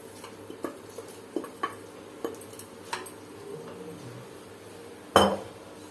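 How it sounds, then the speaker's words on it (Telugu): Marinated chicken is stirred into cooked spinach in a metal pot, a spoon scraping and clinking against the pot in a loose series of taps, ending with one sharper, louder clank, close by, with no talk. "వేసేసుకొని చక్కగా మిక్స్ చేసేసుకోవాలి."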